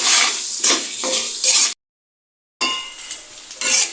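Oil sizzles and crackles as dried fish fries in a pan, with stirring scrapes, broken by a brief silent gap before the frying resumes.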